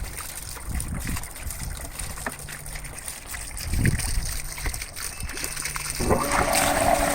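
A pool pump feeding a sand filter on a saltwater system starts up, and water trickles and splashes steadily with constant background hiss, growing a little louder near the end.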